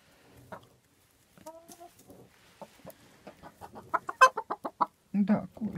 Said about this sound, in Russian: Да, курочки кушают, мои хорошие.